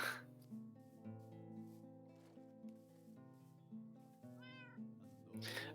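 A cat meows in the Minecraft video game, producing a few short, faint calls over a soft, steady musical background with no talking.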